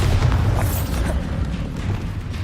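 A spell blast explodes in the Hogwarts Legacy video game, a loud, continuous low boom that rumbles for about two seconds and slowly fades, with no voices over it.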